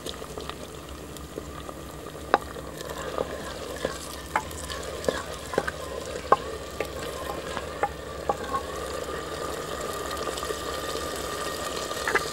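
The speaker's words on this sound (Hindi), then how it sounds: "अब हम इसमें कटे हुए टमाटर और सब्ज मिर्च डालेंगे।" Chopped tomatoes and green chillies go into a frying pan for a beef and radish curry. Steady sizzling and bubbling runs throughout, broken by sharp clicks of a utensil stirring against the pan, with no voices.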